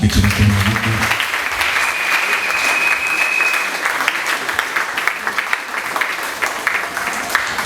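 A church congregation applauds the Lord, sustained dense clapping from a large crowd that carries on steadily throughout, with a few raised voices faintly beneath.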